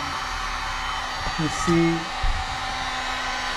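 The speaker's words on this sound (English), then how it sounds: "This is a heat gun, but a air dryer would work just fine." A heat gun softening a vinyl decal on a car headlight gives a steady airy whoosh throughout, with brief tonal shifts and a short spoken remark partway through.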